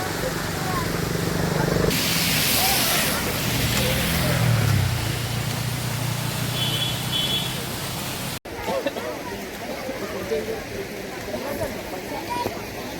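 A small roadside waterfall pours during monsoon rain at Tamhini Ghat, a constant rushing hiss of falling water under people talking nearby, with a brief break partway through before the roar resumes.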